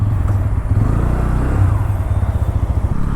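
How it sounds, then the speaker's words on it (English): Bajaj Pulsar N160 motorcycle pulling away for a short ride: a loud, close engine with a throbbing low-pitched exhaust pulse, revving steadily with slight rises in pitch as it gets under way. "Now let's go for a short ride and find out how the Bajaj Pulsar N160 performs."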